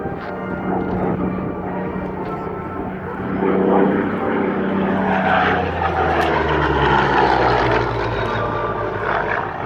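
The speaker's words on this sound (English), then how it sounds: "Spitfire will now pull up and he'll tally his partner in the Hurricane" A Supermarine Spitfire fighter flying at an air show, its propeller engine droning loud and near before swelling and sweeping past, with a commentator talking over the sound.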